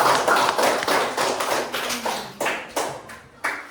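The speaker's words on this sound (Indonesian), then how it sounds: "silakan beri tepuk tangan untuk kelompok kedua" Applause for the second group in a classroom session, a small group clapping briskly and fairly close, with a run of distinct sharp claps that thins toward the end.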